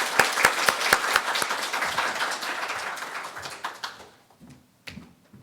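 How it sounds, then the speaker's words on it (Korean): A Korean church congregation claps during Sunday worship, starting with strong, distinct individual claps that blend into steady applause and then trail off into a few scattered claps. "우리 박수로 격려하도록 하겠습니다"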